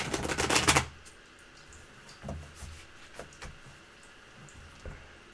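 A deck of tarot cards is riffled in a quick burst of dense flutter, then a few soft, scattered taps and slides follow at close range.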